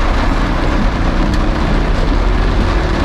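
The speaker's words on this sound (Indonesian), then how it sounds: "Ini hujan gede banget." Heavy rain drums steadily on a car driving a road near Pangandaran, a dense, loud, unbroken wash of noise with no voices.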